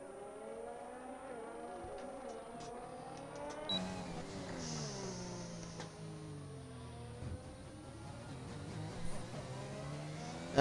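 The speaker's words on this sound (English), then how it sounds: "See that lovely Red Bull engine noise there." A Red Bull Formula 1 car engine in a racing video game, heard at moderate distance as rising and falling revs with gear shifts, a whining tone sweeping up and down over steady background noise.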